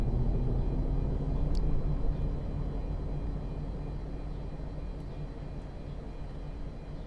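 Boeing 747-200 engine in the X-Plane 11 flight simulator, a steady low rumbling roar with a faint whine on top, easing slightly over time with no talk.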